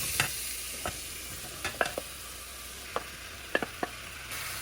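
Chopped apples go into a pan of roasting ginger and are stirred, sharp scraping strokes of a spoon against the pan at irregular intervals over a soft steady sizzle, no talking.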